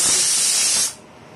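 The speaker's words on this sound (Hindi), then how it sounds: "एक सिटी हो गई" A pressure cooker releases a loud, steady hiss of steam while jeera rice cooks, lasting under a second before cutting off abruptly to quiet.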